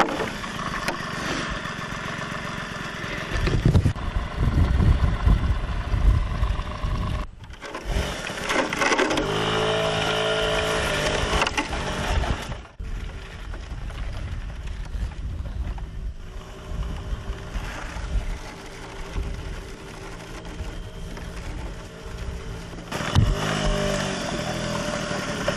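Small motorbike running flat out across a tundra valley in Greenland, a loud continuous engine drone with shifting pitch and rushing wind, dipping briefly a couple of times, no talking.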